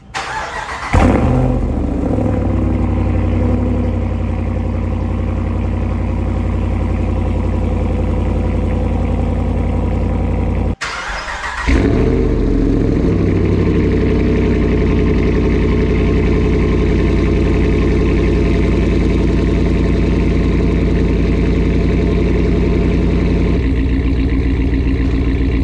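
Ram 1500 pickup engine fitted with a budget bolt-on exhaust tip cranks and catches, settles into a loud steady idle, cuts off briefly, then restarts and idles on evenly close by.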